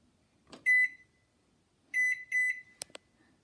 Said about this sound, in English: in the microwave. It's cooking. It's a Hamilton Beach